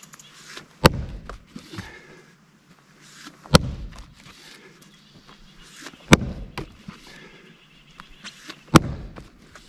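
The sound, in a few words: splitting firewood log with axe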